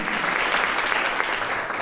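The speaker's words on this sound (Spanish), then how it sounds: "Denles un aplauso a los dueños de este local que nos están alquilando con tanta generosidad" A church congregation applauds the owners of a rented meeting hall, a dense, steady round of clapping from many hands, loud and close.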